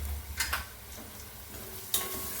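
Masala with turmeric, red chilli powder, garam masala and salt stirred and sautéed in a pan for onion kurdai, a soft sizzle with a few scraping stirs and a sharper clink near the end.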